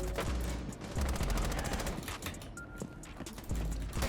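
Rapid automatic gunfire in a first-person shooter video game, loud sustained bursts spraying at an enemy, sharp repeated shots filling the whole stretch with brief gaps.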